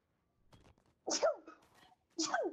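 Two short, sharp sneezes in quick succession, close by, after a faint murmur.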